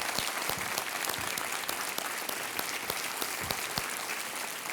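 Enthusiastic applause from the studio audience of a television quiz show as a contestant is welcomed, dense steady clapping close up with distinct individual hand claps, no talking.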